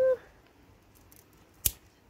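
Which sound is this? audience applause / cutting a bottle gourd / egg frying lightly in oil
cutting a bottle gourd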